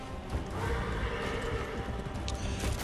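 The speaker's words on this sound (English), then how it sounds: "What is the name of my horse?" Horse neighing over a steady clatter of hooves in the video game Darksiders Genesis, loud and continuous with game sound effects layered beneath, no talking.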